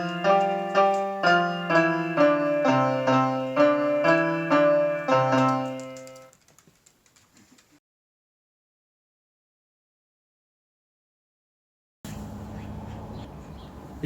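A child plays a new electronic keyboard at home, sounding a steady series of evenly spaced notes for about six seconds before it falls silent, followed by a burst of other background sound near the end.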